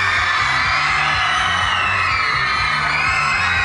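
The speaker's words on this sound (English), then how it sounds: "Look at all these people yelling and screaming at you." A large concert crowd of fans yells, whoops and screams at a singer in a loud, unbroken wall of cheering that fills the whole stretch at a show in Sydney.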